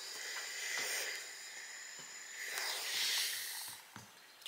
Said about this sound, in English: Trying to move my iron so it doesn't steam up the camera.